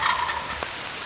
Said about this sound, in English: Now, boys, you want to talk about a turkey. This is a turkey.